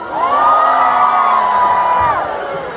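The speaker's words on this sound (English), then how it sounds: "Scream. in 3, 2, 1, scream!" A concert crowd screams together on cue, a loud sustained high-pitched roar of many voices holding for about two seconds before tapering off.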